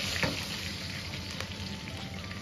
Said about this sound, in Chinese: 30克油，把花椒粒下锅炸。